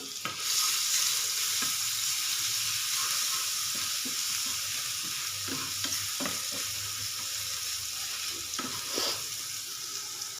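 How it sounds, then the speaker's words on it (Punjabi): Garlic and ginger paste browning in a frying pan, giving a steady bright sizzle throughout with occasional scraping clicks of a spoon stirring, fairly close and loud, no talking. "ਪਾਵਾਂਗੀ ਮੈਂ ਲਸਣ ਔਰ ਅਦਰਕ ਦਾ ਪੇਸਟ ਤੇ ਲਓ ਜੀ ਇਸ ਨੂੰ ਬ੍ਰਾਊਨ ਕਰ ਲੈਂਦੇ"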